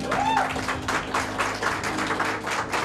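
Moderate applause from an audience at a regional beauty pageant, quick scattered clapping that stays fairly even throughout, with a faint tone briefly at the start.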